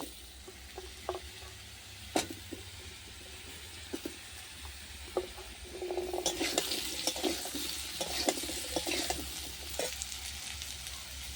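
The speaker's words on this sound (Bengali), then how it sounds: "বড়ি সবগুলো ভেজে নেবো।" Brinjal, pointed gourd, potato and bori fry in a pan, a low steady sizzle with occasional clinks of a spatula, then louder scraping and stirring as the frying intensifies, close and without speech.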